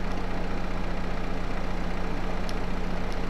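A tractor engine idles in Farming Simulator 22, a steady low rumbling drone that holds evenly throughout with no talk.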